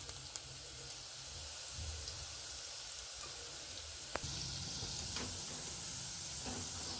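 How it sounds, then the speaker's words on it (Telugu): Cumin seeds crackle and sizzle steadily in hot oil while making lasun and methi curry, a dense, even frying hiss with a few soft clicks of a utensil and no talking. "ఇందులో ఇప్పుడు జీరా కూడా వేసుకుంటున్నాం."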